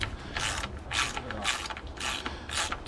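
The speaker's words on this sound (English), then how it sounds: "we can start using E10 and take off the fuel rail bolts" A hand ratchet loosening the fuel rail bolts on a Mercedes M112 engine, with five evenly spaced bursts of quick clicking about half a second apart, close and fairly quiet.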